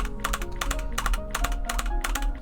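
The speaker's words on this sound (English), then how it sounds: "Sometimes I pause with enter on my keyboard." Keys are pressed on a computer keyboard during an Anodyne 2: Return to Dust speedrun, about eight close, crisp clicks in a loose, repeating rhythm over a low steady hum.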